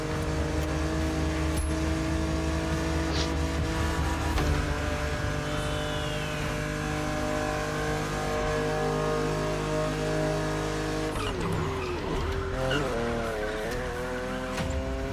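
A Porsche 911 in the racing video game The Crew Motorfest, its engine droning and revving with tire squeals and skids, loud and continuous, with a voice talking over it.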